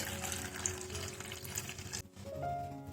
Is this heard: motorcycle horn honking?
no